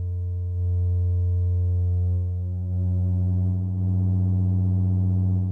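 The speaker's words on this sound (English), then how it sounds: "right now you've got one sine wave, and now I'm going to increase the voltage" A pure, steady sine-wave oscillator tone drones low and loud, its pitch wobbling slightly under frequency modulation as harmonics swell and fade in a few slow waves.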